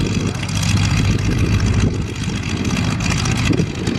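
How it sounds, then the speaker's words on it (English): Continental 220 horsepower radial aircraft engine at an airshow, running with a loud, steady, rough low rumble throughout, close by and without pause. "That's a Continental engine that Keith Foreman is firing up."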